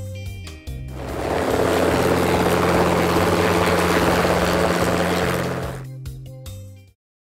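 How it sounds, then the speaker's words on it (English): A helicopter roars in loudly, its rotor chop and turbine whine holding steady before tapering off and cutting out abruptly. "Helicopter."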